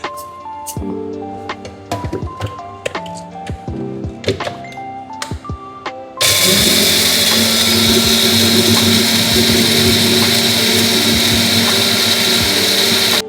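After some clattering and knocks, a mixer grinder starts up and whirs loudly and continuously, grinding cumin and salt at a steady high speed.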